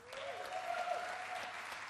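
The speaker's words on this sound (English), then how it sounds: "Another round of applause for this man." Audience at a bartending competition breaks into sustained applause, a thick even roar of clapping with a faint voice briefly audible beneath it.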